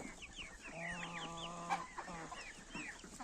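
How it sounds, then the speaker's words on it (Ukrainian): Hens clucking and murmuring nearby, several birds with soft repeated calls and one longer drawn-out note, in a quiet farmyard. "Курочки."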